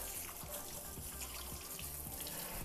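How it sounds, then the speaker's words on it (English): A hand is rinsed under a running kitchen tap during cooking, giving a steady, faint hiss of water with no talk over it. "So let me rinse my hand off real quick."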